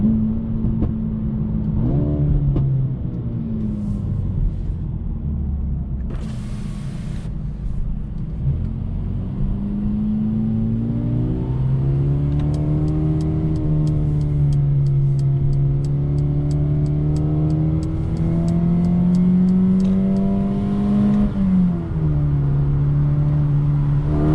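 A 2021 Mercedes CLA 35 engine pulls hard while driving, its note rising and falling through gear changes with a steady road rumble underneath, loud and close from inside the car.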